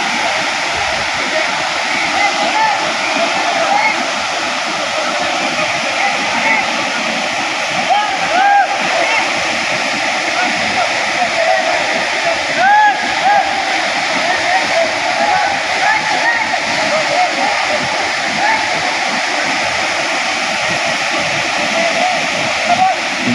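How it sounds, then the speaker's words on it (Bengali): A fast-flowing waterfall of very cold water in hilly country roars in a continuous dense rush, loud and steady throughout, with faint voices now and then beneath the noise. "ঝর্ণার কি স্পিড!"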